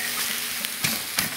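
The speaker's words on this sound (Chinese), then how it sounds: "这一把的青辣椒下锅爆" Fresh green chilies hitting a hot dry wok, a close, loud hissing sizzle with a couple of sharp bursts as they are tossed, over a brief moment.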